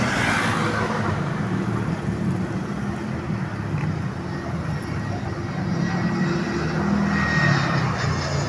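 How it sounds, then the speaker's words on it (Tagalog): Fixed-wing airplane passing low over a roadside near an airport, its steady engine roar loud and constant throughout, mixed with nearby car traffic noise. "lapak na ng aeroplano natin"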